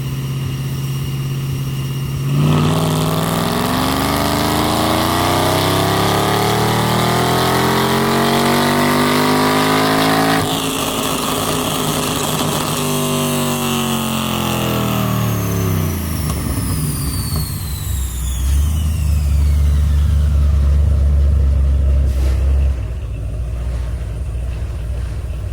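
A supercharged Chevrolet Caprice PPV on a dyno makes a steady loud engine drone that climbs in a long rev, drops back, then settles into a deep idle, close and alone.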